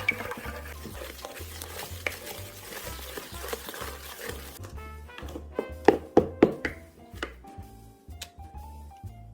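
Egg yolks are whisked for a Betty Crocker lemon cake, a fast, regular tapping of the whisk against the bowl, followed by a few sharper clinks and knocks, close and clear with no speech.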